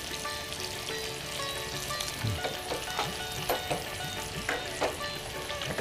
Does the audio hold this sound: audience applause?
no